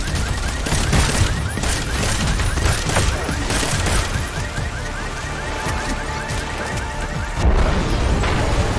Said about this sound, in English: explosion got me